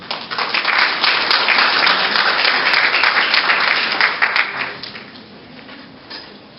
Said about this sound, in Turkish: ortak bellek dersin Strasbourg Avrupa Başkanı Sayın Kamber Akbalık'ı söyleşisini sizlere sunmak üzere alkışlarla sahneye davet ediyorum